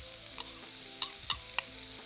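Finely sliced onion and minced garlic sizzling in oil in a wok for beef chow mein: a soft, steady sizzle with a few crisp spatula clicks and scrapes as they are stirred.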